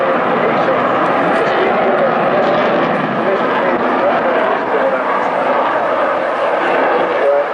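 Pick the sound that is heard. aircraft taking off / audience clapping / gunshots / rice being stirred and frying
aircraft taking off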